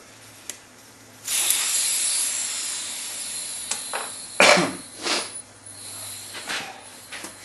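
Air hisses out of a junior dragster tire through the open valve stem with its Schrader core removed, a sustained spraying hiss starting after a faint tick, then broken into several shorter bursts and clicks.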